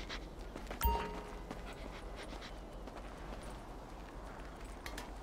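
A dog pants in the GTA 5 video game. The breathing is quick and rhythmic under a busy game soundscape, with a sharp thump near the start.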